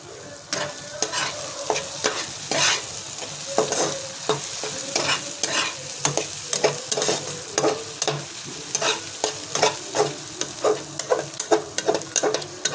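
Fish masala sautés in a pan, a continuous sizzle broken by frequent scraping stirs and spatula taps in an irregular rhythm, close and fairly loud.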